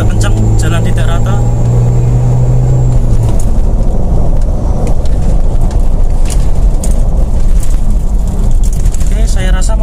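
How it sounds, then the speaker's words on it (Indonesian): A Mitsubishi Pajero Sport fitted with an Ultra Racing lower bar stabilizer driven fast over an uneven road, giving a steady loud engine and road rumble with cabin noise throughout. "Nah, ini kita coba kencang, jalan tidak rata."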